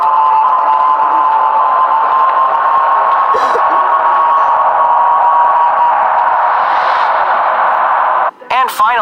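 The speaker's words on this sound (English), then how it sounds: "Next, you can hear the crowd cheering for his return." A crowd cheers for Arthas' return in Undercity, World of Warcraft: a steady, dense roar of many distant voices holds throughout, with a brief sharper burst near the end.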